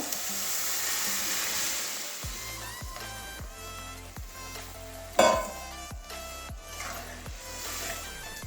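Boiled papaya and mung dal tipped into a pan of spinach cooked down until dry. A steady hiss fades as the ingredients land, followed by repeated scraping stirs and one sharp clank.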